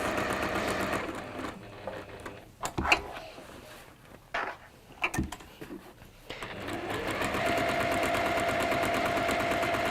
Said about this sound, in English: So this is straight line sewing, Gemma